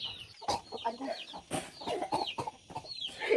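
Chickens cluck and chatter in quick, uneven bursts, fairly close, with a busy farmyard feel and no voices.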